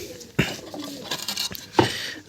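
Pigeons beside a wooden stand being built for them give a few soft, low coos at close range, with two brief bumps standing out against otherwise quiet surroundings.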